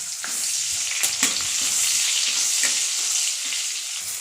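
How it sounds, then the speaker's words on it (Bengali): Panch phoron spices fry in melted butter in a hot pan, producing a continuous close hissing sizzle with a couple of brief clicks from a spoon. "বাটারটা গলে গেলে 5 ফোড়ন দিয়ে দেবো 1 চামচ"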